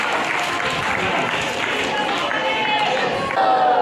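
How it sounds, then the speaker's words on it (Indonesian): Audience applause for singers at a school assembly, a steady wash of clapping hands filling the room for several seconds, swelling slightly near the end. "Kasih aplaus dulu mereka."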